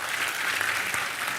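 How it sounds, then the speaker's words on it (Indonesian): An audience applauds for Mbak Puan at a gathering, a dense steady clapping from a crowd that holds at an even level for its brief span. "Kita semua tepuk tangan untuk Mbak Puan."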